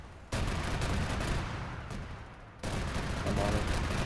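Sustained heavy gunfire from an enemy Kajman attack helicopter in ArmA 3, a dense continuous roar of rapid shots that briefly eases before resuming loud and close.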